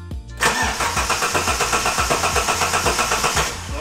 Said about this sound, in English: we're going to give the car a start to make sure it does run